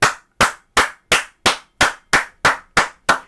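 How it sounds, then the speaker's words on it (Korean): Ten evenly spaced, sharp claps in a slow steady rhythm, each crisp and close with a short decay and silence between, at a political broadcast rally. "박수 치세요."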